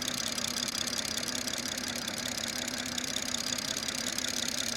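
BMW B58 engine idling during a PCV system check, a steady, even mechanical hum with faint ticking running unchanged throughout, no voices.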